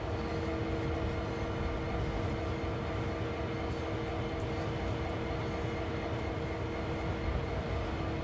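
A train rolls steadily in the simulator game Train Sim World 2, a continuous low rumble with a droning engine hum that holds even and unbroken throughout; no voices.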